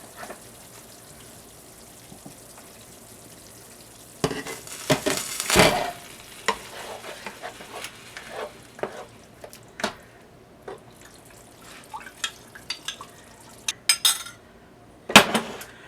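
Polynesian pork sauce simmering in a covered pan from a vintage 1940s-50s recipe: a low, steady sizzle broken by scattered clinks and scrapes of utensils and a lid, with a few louder knocks near the middle and end.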